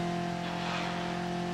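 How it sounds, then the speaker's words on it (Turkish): A Renault Toros in BeamNG.drive with a failing transmission, on snowy village roads, gives off a steady droning engine hum overlaid with sustained whining tones from the gearbox. "Şanzımanda garip garip sesler geliyor."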